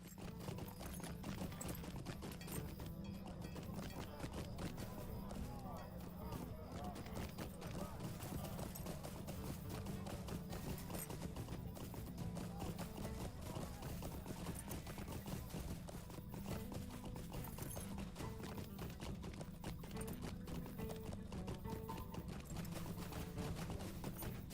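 Continuous rapid clip-clop of horse hooves trotting steadily throughout in the game LOTRO, with dense layered game sounds and occasional faint voices underneath.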